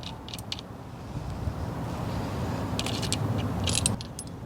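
Metallic clinks and rattling as a 13mm wrench loosens a nut on a shock absorber of a Chevrolet Astro or GMC Safari van, with soft scraping under a steady low background hum.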